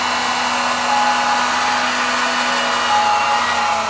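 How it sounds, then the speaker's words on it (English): A heat gun shrinking red heat shrink tubing onto wire, a steady close blowing roar with a constant motor hum, loud and unbroken throughout. "Oh, this heat gun's about to go."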